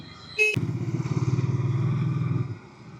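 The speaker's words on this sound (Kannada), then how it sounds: "ಸೊ ಈ ಬೈಕ್ ಟೆಸ್ಟ್ ರೈಡ್ ಮಾಡಕ್ ಬಂದಿರೋದು ಇಲ್ಲಿ ಪಾಪ್ಯುಲರ್ ಬಜಾಜ್ ಸರಸ್ವತಿಪುರಂ ಅಲ್ಲಿ" A Bajaj Dominar 250 motorcycle engine starts with a short whine, then idles with a deep, rapid, pulsing thump for about two seconds before cutting off. The sound is close.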